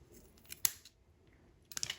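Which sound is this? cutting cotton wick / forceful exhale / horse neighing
cutting cotton wick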